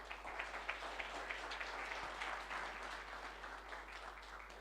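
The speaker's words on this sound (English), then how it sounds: "please give them a round of applause" A forum audience applauds a football panel, steady, moderately distant clapping over a low constant hum, with no voices.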